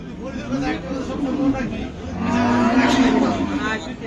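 Cattle lowing amid a busy crowd at the Hazratpur cattle market before Qurbani, with a couple of drawn-out moos rising over steady chatter and background voices.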